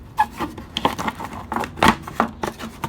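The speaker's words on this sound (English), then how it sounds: "And then slide the cover back on." A metal cover slides back into place on a Toro self-propelled lawn mower, making a run of short scraping and rubbing clicks in an uneven rhythm, close by and with no voices.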